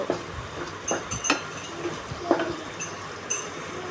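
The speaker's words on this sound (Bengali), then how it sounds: "টমেটো দেওয়ার পরে একটু নেড়ে দিব" Light clinks and scrapes of a utensil against a pan as shrimp curry with tomatoes and green chilies is stirred, a few close, irregular knocks over a quiet background without speech.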